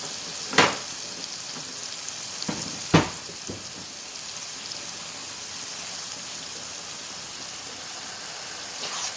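Garlic hits a pan of frying onions, a steady close sizzle with a couple of sharp clattering stirs near the start, the frying hiss carrying on evenly afterward with no talking.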